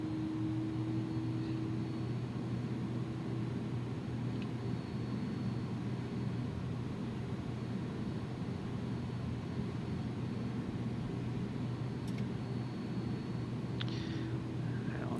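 FedEx Airbus A300F heavy freighter on its takeoff roll in X-Plane 11, a steady, faint engine drone and rumble holding constant, with brief clicks near the end.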